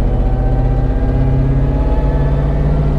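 The LT4 supercharged V8 in a Jeep Wrangler Rubicon drones steadily under load, a loud, constant engine hum with a faint whine of supercharger boost layered over it, no talking.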